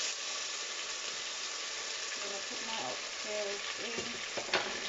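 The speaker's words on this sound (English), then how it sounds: "I'm gonna put my oxtail in" Pieces of oxtail sizzle and fry in a hot pot for Jamaican oxtail, a steady close hiss with faint stirring scrapes and clinks, no voices.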